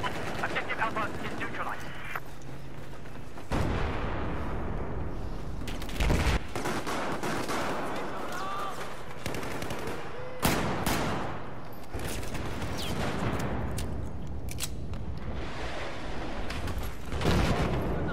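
Heavy gunfire in the video game Battlefield 4, with loud bursts and volleys around 3, 6, 10 and 17 seconds over a dense rumbling battle din, mixed with some talk.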